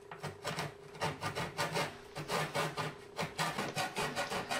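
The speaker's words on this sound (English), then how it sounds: "So I kind of just wedge a saw between and just sort of snap them as I go through." A hand saw rasps through wooden pins in quick back-and-forth strokes, a steady rhythmic scraping heard up close.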